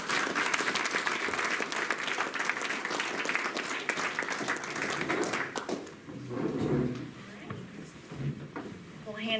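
Audience at a business forum giving presenters a round of applause: dense clapping fills the first six seconds, then fades into scattered claps, shuffling and murmuring voices.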